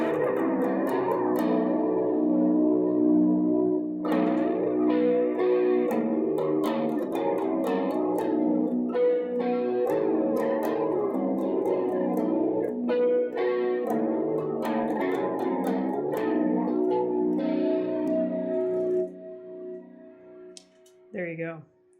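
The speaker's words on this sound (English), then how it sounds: "it's just really chorusy sound. Super watery. Sounds like it's underwater." A clean electric guitar riff soaked in heavy chorus for a watery, underwater wobble, with plucked notes and strummed chords ringing steadily and loudly before fading out near the end.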